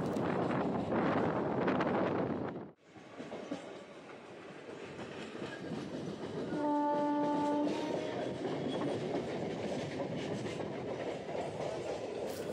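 A local train from Howrah rumbles steadily with heavy wind buffeting the microphone, a brief sharp dropout, then a loud horn blast before the rolling noise continues as it arrives at Liluah station.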